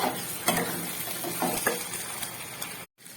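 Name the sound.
stirring and frying masala with capsicum in pan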